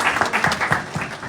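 Applause at a Kwanzaa community panel on violence solutions, a short burst of clapping from a small group, moderately loud and close, with uneven hand claps.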